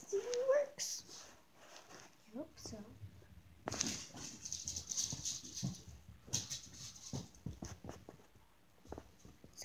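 A dog whimpers and whines in short high bursts near the start, followed by scattered movement and shuffling noises while people talk indoors in the background.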